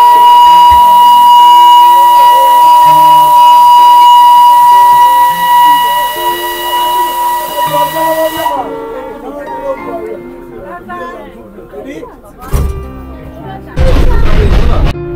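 The Darjeeling Himalayan Railway toy train sounds a long, steady whistle on departure from Darjeeling station. Voices and rumbling movement follow, with a loud burst of noise near the end.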